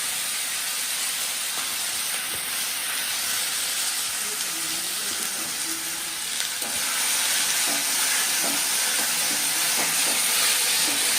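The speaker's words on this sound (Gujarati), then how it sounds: "હવે આમાં મેથીને ફ્રાય કરી દેવાનું" Fenugreek leaves (methi) frying in a pan for a methi palak dish, a steady loud sizzle and hiss running throughout with occasional soft stirring scrapes, no voices.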